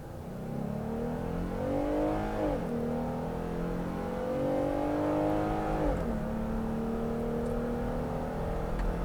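Jeep Gladiator pickup climbing an uphill road, a steady engine drone heard from inside the cabin with pitch sweeping upward through gear changes, continuous and moderately loud with no speech.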